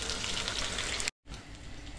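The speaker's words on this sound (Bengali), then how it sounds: "আর এখানে এটা কষানো হচ্ছে ঝিঙেটাকে" Ridge gourd sautéing in a pan for a Bengali home-cooked fish dish, a steady close hiss of frying broken by a brief silent cut partway through.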